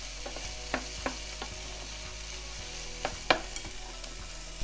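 Butternut squash sizzles steadily in a pan with garlic, onion and ginger, a close, even frying hiss broken by a few sharp clicks and scrapes of stirring, with no talking.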